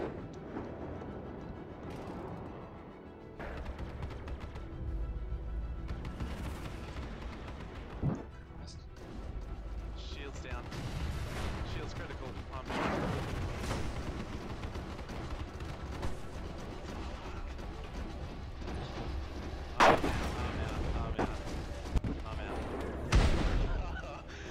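Missiles launch and explode in a Star Citizen space combat battle against a Vanduul swarm. Deep rumbling blasts and whooshes recur under and between bursts of game voice, with heavier hits near the end.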